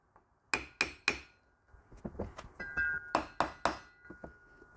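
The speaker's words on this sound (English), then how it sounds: "take your hammer and just give each of the ears a bit of a tap" A hammer taps the ears of a universal joint on a Toyota Land Cruiser 80 Series driveshaft, a run of sharp metallic blows in quick clusters with ringing clinks and softer knocks between, close and clear with no talk.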